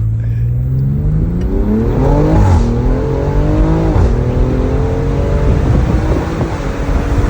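A BMW X3 M with a modified exhaust revs loud and close, its engine note climbing and falling through several pulls over a constant throaty drone.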